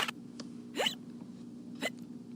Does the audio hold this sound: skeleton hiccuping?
yes